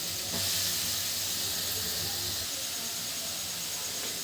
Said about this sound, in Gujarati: હવે આપણે તે ગરમ ઘીમાં જ જે દૂધીનું છીણ કર્યું છે તે સાતળી લઈશું 5 મિનિટ માટે